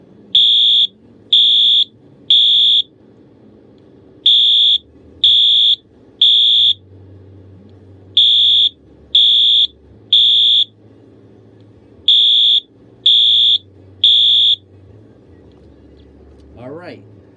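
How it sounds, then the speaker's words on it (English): A Wheelock AS fire alarm sounds in bursts of three loud, piercing electronic tones, each pattern repeated four times with short pauses between, while a low hum runs underneath; a brief rising chirp follows at the end. "that is what the Wheelock AS sounds like"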